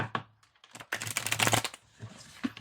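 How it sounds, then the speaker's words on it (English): Brisk riffling and snapping of tarot cards being shuffled, a few quick bursts close by with short pauses between them. "Let's give these a good shuffle,"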